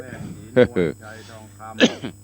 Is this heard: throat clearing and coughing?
yes